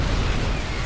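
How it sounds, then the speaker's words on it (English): Tank explosions in the video game StarCraft 2: a dense, loud, continuous roar of blasts and booms filling the whole moment, with no clear gaps. "Explosions from the tanks"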